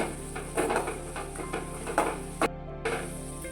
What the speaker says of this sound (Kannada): ಬೆಳ್ಳುಳ್ಳಿನ ಹಾಕೊತಾ ಇದ್ದೀನಿ ಇದೆರಡು ಕೂಡ ಇವಾಗ ಫ್ರೈ ಮಾಡ್ಕೋಬೇಕು